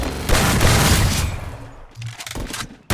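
Gunfire in the Garena Free Fire video game, a loud burst of rapid automatic shots that fades, followed by a few scattered shots and a final sharp report, with no speech.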